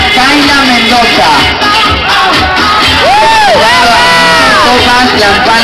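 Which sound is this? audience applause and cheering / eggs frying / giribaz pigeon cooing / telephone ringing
audience applause and cheering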